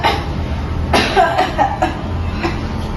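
A woman coughing from the smoke of burning plastic: a few close, loud, harsh coughs in a short burst, followed by a brief lull.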